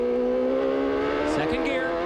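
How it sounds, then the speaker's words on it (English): A Lola race car in the 1994 CART race at Elkhart Lake runs off track with its outside wheels and bounces over the curbs, a loud sustained engine whine with a brief jolting thump partway, while a commentator talks over it. "Off the racetrack with the outside wheels, bounces over the curbs."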